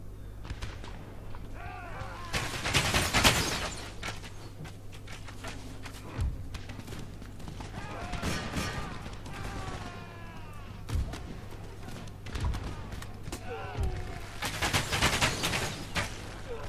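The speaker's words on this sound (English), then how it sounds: "now they're starting to fire at us" Musket volleys and artillery fire from an Empire: Total War battle crack out in scattered bursts over a low steady hum, with louder clusters of shots near the start and end and faint background battle noise between.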